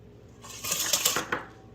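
Spoon stirring sugar with cinnamon and a pinch of salt in a pan for vegan zucchini bread, a few light scraping clinks close by, quiet and brief with no talking.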